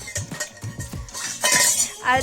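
A small child plays with metal kitchen pots and utensils, producing a quick run of close, bright clanks and scrapes followed by louder jangling clatter.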